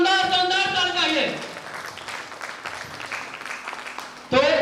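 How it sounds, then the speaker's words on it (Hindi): At a direct selling training and motivation event, a voice speaks and then an audience breaks into a few seconds of moderate clapping, before talking resumes at the end. "एक बार उनके लिए शानदार ताली चाहिए।"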